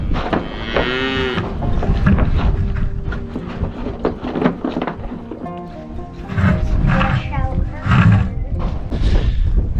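Highland cows moo loudly and repeatedly, long low calls overlapping one another close by, with some voices talking in between.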